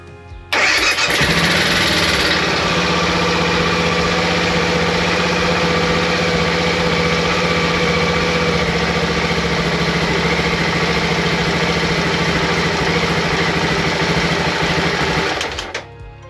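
A BMW F650GS motorcycle engine with a running fault cranks, catches and settles into a steady, loud idle that runs for about fifteen seconds before cutting out.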